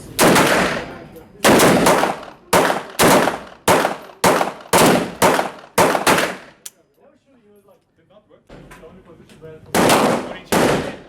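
Gunfire at the Brünig indoor shooting range rings out as a rapid string of sharp, loud, close shots with short gaps, then a quiet pause with faint handling noise before another burst of shots.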